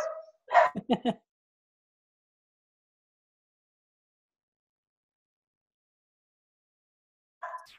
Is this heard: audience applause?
no